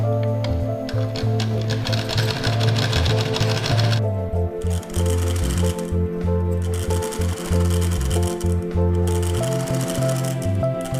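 A sewing machine stitches down a folded fabric hem in close, rapid rhythmic runs, starting and stopping several times with brief pauses between bursts.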